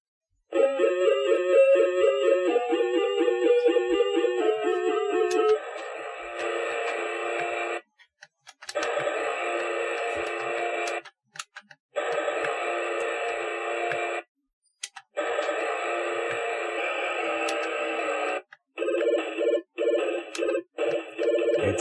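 Chiptune Tetris game music plays from a SID sound chip in a rebuilt LittleSixteen retro computer, with buzzy square-wave melody and arpeggio phrases broken by short silent gaps, clean and moderately loud with no talking.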